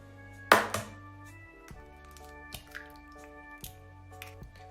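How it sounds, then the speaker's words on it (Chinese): Two eggs are cracked into a bowl of mashed steamed rice: one sharp crack, then a few soft, wet taps and plops, all close by over quiet background music. "咱们向米饭中打上2个鸡蛋。"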